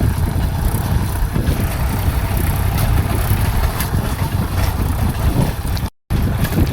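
A tractor digging planting pits in stony, sandy soil on a farm, its engine running as a steady, loud low rumble throughout, broken by a brief cut near the end.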